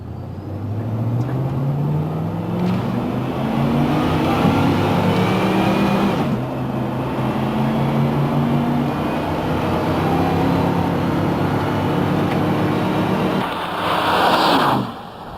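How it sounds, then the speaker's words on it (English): A Ford E4OD-HD2 transmission vehicle upshifts at three-quarter throttle, the engine note climbing steadily and then dropping at each gear change, loud and continuous with no talking over it. "Let's try some upshifts at 3/4 throttle and feel the shifts."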